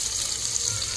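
Onions fry in oil in a pot on the stove for egg pulao, making a steady, even sizzle with no talk.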